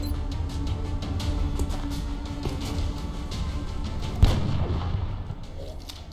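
Gunfire from the strategy video game XCOM Long War rumbles as a steady, dense barrage of artillery-like booms and shots, with one sharper blast partway through, loud and continuous with no talk.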